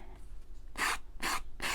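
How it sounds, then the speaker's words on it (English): Three short, rasping strokes of a nail file sanding leftover paper off the edge of a wooden frame, evenly spaced, close and fairly loud, with no talking. "we take a nail file and we sand off the edge, any remaining paper that's on the edge."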